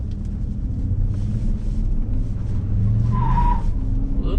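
A 2018 Ford F-150 pickup with a turbo engine accelerates hard, giving a deep, steady exhaust rumble and engine drone that builds slightly. A brief higher whine or squeal rises near the end, and no one talks.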